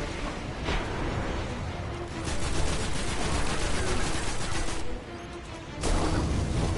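Rapid gunfire bursts in the video game Destiny, dense and sustained across the clip with brief pauses, loud and alone with no talk over it.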